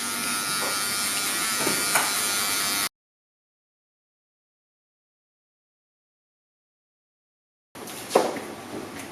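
Wahl electric hair clippers buzz steadily while cutting hair during a barber demonstration with a number 1.5 guard, running alone for a few seconds, then a silent gap, then the buzz resumes with a brief louder burst.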